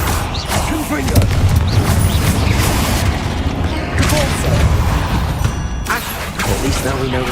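Spell blast from a Hogwarts Legacy fight: heavy booming explosions and crashing impacts in a dense, loud game mix, with voices speaking over the action.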